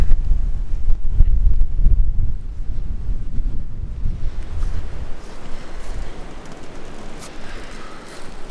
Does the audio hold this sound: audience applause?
no